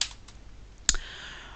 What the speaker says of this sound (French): on bouge avec les touches de direction haut et bas du clavier